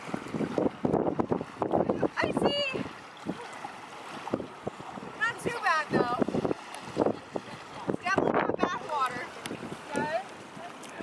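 Strong wind at a beach in Weymouth, England, gusting and buffeting the microphone in a steady rumbling roar, with someone talking and birds calling over it.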